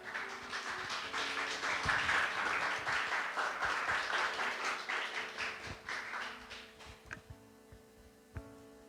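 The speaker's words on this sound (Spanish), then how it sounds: "Dale un aplauso." Applause from a church congregation after a closing prayer, a steady dense clapping that swells and then thins out into scattered claps before fading.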